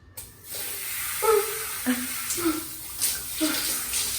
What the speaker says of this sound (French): Je vais prendre ma douche, chaud-froid